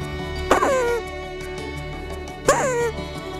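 During a fox hunt, a hunter uses his voice to imitate a fox's bark as a lure. Two sharp, yelping barks drop in pitch, about two seconds apart, over steady outdoor background noise.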